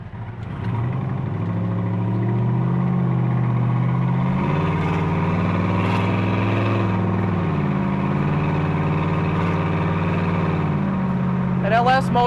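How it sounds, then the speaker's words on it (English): A Chevrolet LS V8 engine in a roughly 50-year-old resto-mod Corvette rumbles steadily at idle with a deep, throaty tone, rising slightly as it revs briefly near the middle, close and loud. "An LS motor doesn't quite sound like an old school big block"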